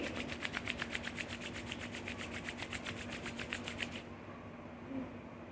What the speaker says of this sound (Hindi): दोनों हाथ की हथेली को अच्छे से रब करके आपस में गरम कर लीजिए